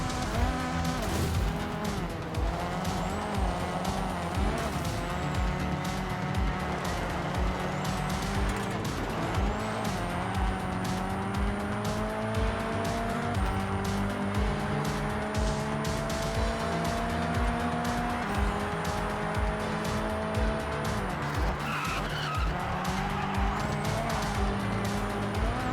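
A car drifting in the Forza Horizon racing game holds a steady engine drone for a long stretch, with repeated rising and falling tire squeals as it slides through corners.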